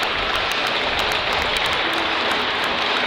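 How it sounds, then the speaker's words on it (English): College hockey crowd at a Montana State Bobcats versus Eastern Washington game applauds an injured official as he gets up, a steady, even patter of clapping filling the rink without pause. "they're giving the official a nice little round of applause to get him up"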